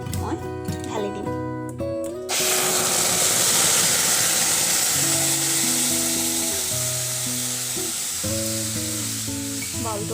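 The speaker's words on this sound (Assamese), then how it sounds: "এইফালে কেৰাহীখন গৰম হৈ গ'ল, আৰু ইয়াত এতিয়া এইখিনি মই ঢালি দিম।" A mixture poured into a hot wok bursts into a loud, sustained sizzle about two seconds in and hisses steadily to the end, with a voice or tonal sounds running over it before and during.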